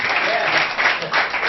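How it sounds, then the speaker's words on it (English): An audience gives a round of applause at a youth talk event, a steady, dense wash of clapping that holds loud through the whole short stretch. "it's a round of applause for him, please"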